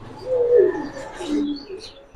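Silver pigeon with deep blue eyes at a pigeon farm, giving a couple of soft low coos, close by, with faint chirps from other birds in the background and no speech.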